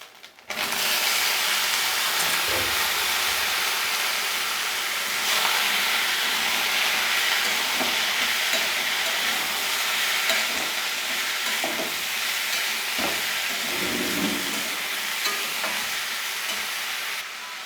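Teasel gourd (kakrol) pieces hit a pan of fried grated coconut with a loud, dense, continuous sizzle that holds steady throughout, broken by intermittent scraping stir strokes; close up, no voices.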